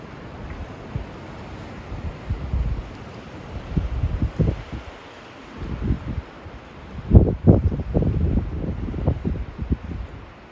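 Gusty wind buffets the microphone in uneven low rumbling bursts, rising and falling, with a stronger gust near the end; no voices.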